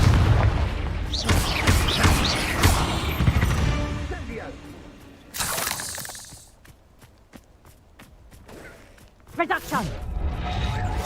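A Confringo spell explodes during a Hogwarts Legacy battle, booming blasts and crashes amid combat effects, with a loud burst midway and another near the end, under a voice speaking.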